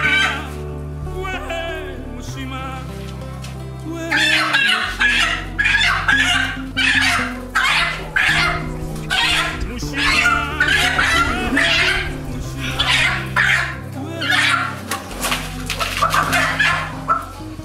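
A chicken clucks and squawks repeatedly, close and agitated, in a rural household setting, with bursts of loud cackling throughout the stretch.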